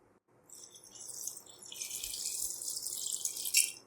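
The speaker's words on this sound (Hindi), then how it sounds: "एक गिलास के करीब हम पानी ऐड करेंगे।" About a glass of water is poured into a pot of chopped apricots for a drink, making a steady, close splashing stream for about three seconds before it stops.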